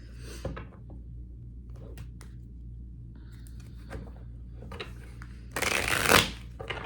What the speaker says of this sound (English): Why do my cards not want to shuffle?